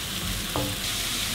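Grated carrot frying over low heat in a pan, giving a steady close sizzle with a brief scrape of stirring partway through.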